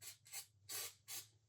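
Aerosol spray can hissing onto model car parts in quick bursts, four close, loud sprays with short gaps, while building a McLaren M8B scale model.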